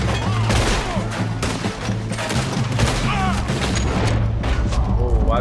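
Gunfire in Red Dead Redemption 2 amid a train sequence: a dense, continuous barrage of loud shots and rumbling booms from a fusillade, with people talking over it.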